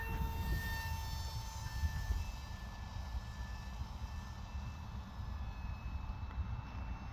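A small Eachine F22 Raptor ready-to-fly four-channel RC jet flies in a light drizzle at raised throttle, giving a steady whining motor drone with faint high tones, fairly constant in level and heard at a modest distance.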